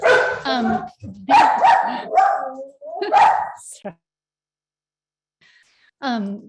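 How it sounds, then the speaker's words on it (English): Dogs bark at home in a loud run of sharp, close barks and yips, then fall quiet before one more bark bursts out at the end. "Sorry about my dogs."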